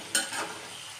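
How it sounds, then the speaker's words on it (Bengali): Shrimp drop into a hot pan for a Bengali vegetable chorchori, a sharp splash of sizzle that eases into a steady, close frying hiss with a stir. "এর মধ্যে এখন আমি চিংড়ি মাছটা অ্যাড করবো।"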